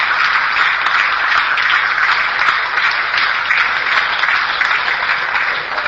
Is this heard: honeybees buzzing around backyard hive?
no